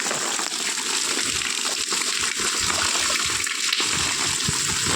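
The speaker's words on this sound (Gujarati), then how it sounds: "તમને ગામમાં વરસાદ બતાવું છે તો તમે જુઓ ખાલી વરસાદ" Heavy monsoon rain pours steadily in a Gujarat village, a dense wash of splashing water with irregular spatters and drips throughout, no voices.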